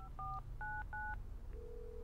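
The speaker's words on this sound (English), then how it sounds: "she rang Kate at 7:15" Telephone keypad dialing tones beep out as short dual-tone presses, four or so in quick succession, followed by a steady lower tone, clear and alone with no talking.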